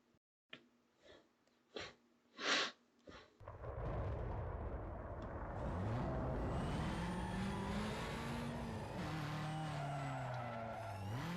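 Tires skid and squeal under hard braking in Need for Speed Most Wanted Black Edition, a screeching slide with engine roar after a few short sharp bursts at the start, fairly quiet overall.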